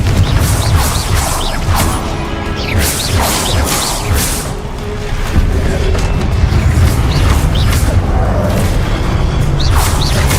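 Booming spell blasts and crashing impacts from a fight in the game Hogwarts Legacy, steady loud rumble punctuated by whooshes and hits, with some voices mixed in.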